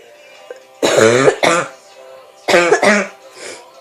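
Two bursts of harsh, close coughing, each a quick pair of rough hacks, separated by a short quiet pause.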